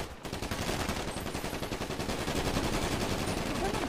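Rapid automatic gunfire in the video game GTA 5, a dense, continuous burst of shots at steady high volume, sounding close and sustained for several seconds.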